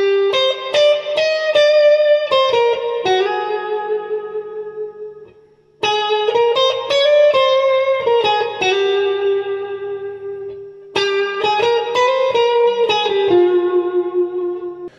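Electric guitar playing a Carlos Santana phrase through a Behringer DR600 reverb effects unit, three melodic runs of picked notes with long reverberant tails, clear and close with no talk.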